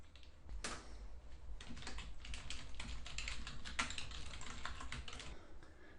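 Quick, light keystrokes rattle steadily on a computer keyboard as a test-case title is entered in project software, quiet and close with no talking.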